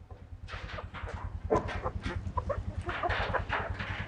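Several hens cluck and murmur close by in a hen house in a busy, overlapping chorus, with a low steady hum underneath.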